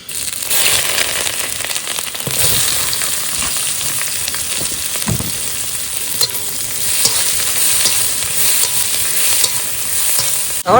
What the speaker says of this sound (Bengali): তেল গরম হয়েছে দিয়ে দেবো গোটা জিরে আর শুকনো লঙ্কা